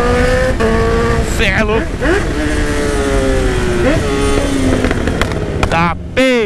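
A Honda CB1000 motorcycle accelerates hard and revs repeatedly, its loud close engine note rising and falling through several sweeps with sharp pops, while someone talks excitedly over it.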